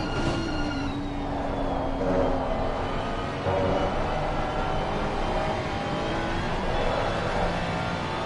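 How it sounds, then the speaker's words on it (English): GT3 race car engine in Assetto Corsa Competizione taking the Ascari chicane at Monza, a continuous engine drone with shifting pitch, gear changes and other cars nearby, with no talking over it. "Let's just be quiet and listen to how he takes Ascari."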